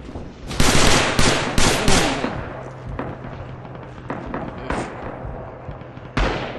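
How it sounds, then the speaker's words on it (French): Machine gun fire rattles through a Red Orchestra 2 Rising Storm battle on Iwo Jima, with loud close bursts of rapid shots and then scattered, more distant single cracks. "À la mitrailleuse."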